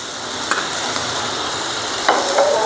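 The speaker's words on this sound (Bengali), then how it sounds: "এখন তেলে দিয়ে দেবো পেঁয়াজ কুচি, কয়েকটা কাঁচামরিচ কুচি," Chopped onion, green chilli and garlic fry in hot oil with a steady broadband sizzle, punctuated by a few brief stirring clicks and scrapes near the end, close and with no talk.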